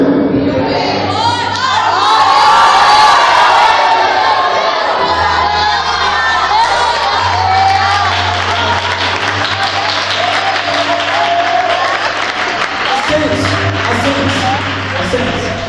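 Church congregation at a vigil service shouting praise and applauding together, a loud sustained crowd roar with clapping and cheering filling the whole stretch, with no clear separate speaking voice.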